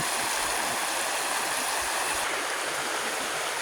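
Floodwater from forest runoff surges strongly into a garden in Phetchabun, a loud, constant rushing roar like a stream or small waterfall that stays steady throughout.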